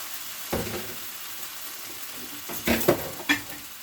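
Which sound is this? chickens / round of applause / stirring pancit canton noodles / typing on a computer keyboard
stirring pancit canton noodles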